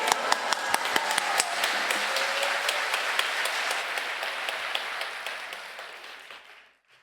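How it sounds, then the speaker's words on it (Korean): A worship congregation applauds to welcome a pastor at an opening service, a steady wash of clapping with distinct sharp claps that holds for several seconds, then tapers off and stops. "박수로 환영해 주시겠습니다"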